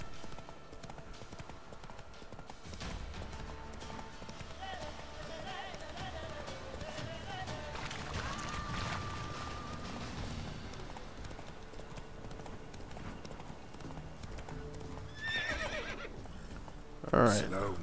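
Geralt's horse Roach gallops with a steady clip-clop of hooves in The Witcher 3 game, breaking into whinnies and neighs, with a louder snort or neigh near the end over a continuous background of game music and ambience.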